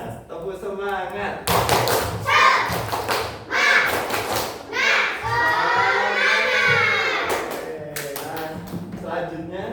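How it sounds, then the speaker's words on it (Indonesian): Primary school pupils repeat the tepuk semangat spirit clap in a classroom, crisp rhythmic clapping in grouped bursts alongside loud children's chanting and shouting. "Lagi satu kali lagi, biar semangat. Tepuk semangat."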